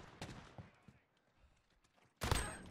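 Shotgun blasts in Call of Duty Modern Warfare gunfight: a couple of sharp shots early, a quiet stretch, then a loud, close booming blast near the end.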